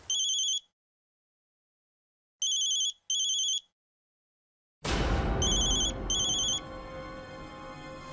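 Telephone ringing in electronic bursts, several ring cycles separated by silence, followed by a loud sudden dramatic music hit with the ringing continuing over it.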